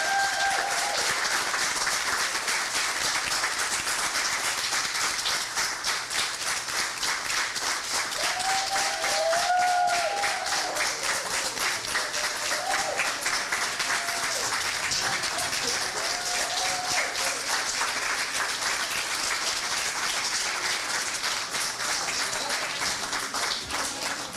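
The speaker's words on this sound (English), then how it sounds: "So let's give them a rousing applause as they enter the area." A standing audience at the VI Territorial Spelling Bee gives rousing applause as champion spellers enter, steady sustained clapping filling the hall for the whole stretch, with faint voices and a few tonal sounds beneath.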